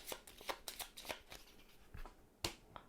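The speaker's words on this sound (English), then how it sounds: "and you give them a shuffle." A deck of playing cards is riffled and shuffled in quick, crisp bursts, a rapid series of papery flutters followed by a final sharp snap, close and fairly quiet.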